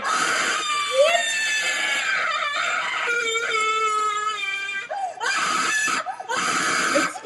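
A creature in the horror game Slendytubbies lets out a loud, shrill, wavering scream that goes on almost without a break, rising and warbling, then cuts off briefly before starting again.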